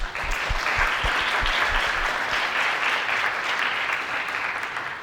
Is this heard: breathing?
no